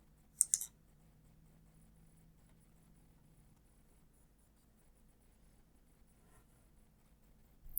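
A computer mouse clicks in quick double pairs near the start, then one faint click near the end, while modelling in Onshape CAD software, with near silence between.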